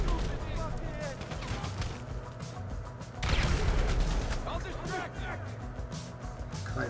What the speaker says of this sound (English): Who the hell's shooting all in grenades?